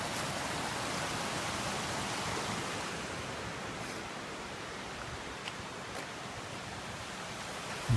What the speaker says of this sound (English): Pretty creek up here.